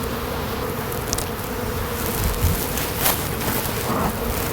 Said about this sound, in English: I have to get these bees taken care of while I got some warm weather.